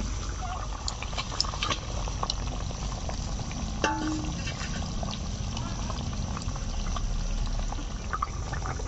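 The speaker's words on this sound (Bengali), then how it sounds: "ঝোল ফুটতে শুরু করে দিয়েছে।" Curry broth for big boal fish bubbles in a pot, a steady dense simmering hiss with faint bubbling and a few light clinks, close and unbroken.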